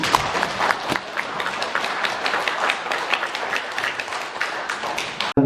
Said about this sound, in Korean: 박수 한번 주시면